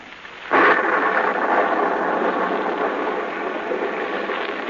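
A sudden crash of thunder breaks over steady, heavy rain in a 1942 CBS radio drama, then the downpour continues as a loud, dense hiss with a faint rumble lingering.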